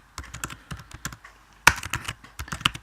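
Typing code on a computer keyboard, a quick irregular run of close, crisp key taps with one louder clack midway, no voices.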